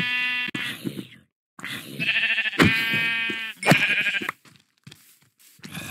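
Sheep in the video game Minecraft bleating several times, wavering nasal baas in short separate calls with quiet gaps between them, close and clear, with no talking.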